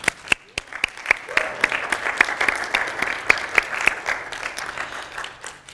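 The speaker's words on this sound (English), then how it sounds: "Let's give Stephen Shore an applause." Audience applause in a talk setting, steady clapping from a crowd with a few sharper individual claps standing out, moderately loud and fading slightly toward the end.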